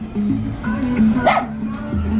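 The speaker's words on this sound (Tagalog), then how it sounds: "Guys, tingnan nyo, may aso po." A dog barks and yips nearby in a stretch of short repeated calls and whimpers, heard under and between people talking outdoors.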